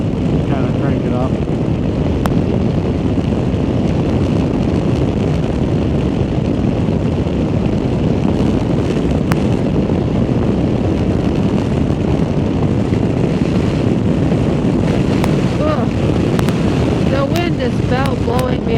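Loud, constant wind buffeting roars across the whole clip on a windy day, mixed with the engine drone of a 2024 Honda Africa Twin motorcycle riding at speed.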